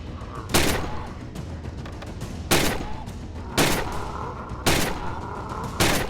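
Five sharp, loud gunshots ring out at irregular intervals in the virtual-reality shooting game Gun Club VR, each one a hard crack with a short tail, over a steady low background hum.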